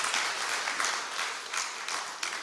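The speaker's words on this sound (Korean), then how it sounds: "우리 환영 박수 한번 합시다." Welcoming applause from a Sunday worship congregation, a dense, even wash of clapping from many hands in a church hall, steady throughout with slight swells.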